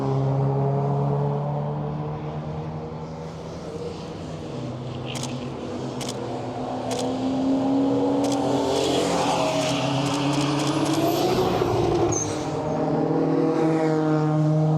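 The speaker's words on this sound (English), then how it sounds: "Porsche." A Porsche race car at the Historic Zandvoort Trophy approaches with a steady engine drone, then passes close by the trackside with a rising roar and pitch shift before receding, while other engines hum in the background.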